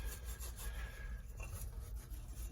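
Steel wool is rubbed back and forth against a furnace flame sensor rod, a faint, continuous scratchy rasping with quick repeated strokes, close and quiet with no voices.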